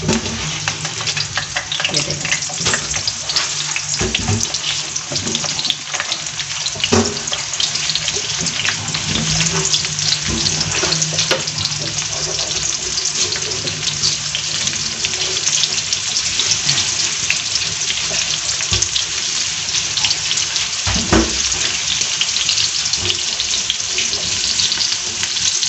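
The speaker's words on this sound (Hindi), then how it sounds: "एक तरफ हमारी भिंडियाँ फ्राई हो रही हैं," Besan-coated okra shallow frying in oil gives a steady, dense sizzle that runs unbroken for the whole stretch, close and fairly loud, with occasional faint clinks and no talking.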